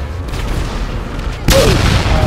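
A tank cannon fires in the online game GTA Online, one heavy boom hitting about two-thirds through and rumbling on loudly after a stretch of quieter game noise and talking.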